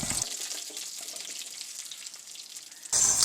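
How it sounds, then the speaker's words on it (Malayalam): Soft, steady sizzling of torn curry leaves frying in hot oil, close by, with a brief louder burst of hiss at the very end. "കീറിയിട്ട കറിവേപ്പില എണ്ണയിൽ കിടന്ന് വറുത്ത് വരുമ്പോൾ ഉണ്ടല്ലോ, എണ്ണ നല്ല മണമല്ലേ."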